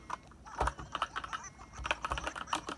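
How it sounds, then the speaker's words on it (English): Someone types on a computer keyboard using only one hand, with irregular clusters of close, moderately quiet key clicks and no talking. "typing with one hand"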